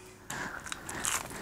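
A single loud crunchy bite into a crunchy meat-free food product, close to the mic, followed by brief crackling chewing.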